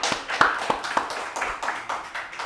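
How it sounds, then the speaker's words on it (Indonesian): An audience claps to welcome a guest, a rally driver, onto a podcast: a small group's irregular, fairly close hand claps in quick bursts over a couple of seconds, with no voices. "Tepuk tangan semuanya."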